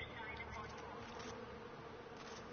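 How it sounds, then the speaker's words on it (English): Angry bees swarm out of a destroyed beehive in the video game Far Cry 4, a steady dense buzz that carries on without a break for the whole stretch, close and fairly loud. "SWAT the bees! Bad bees. Evil bees."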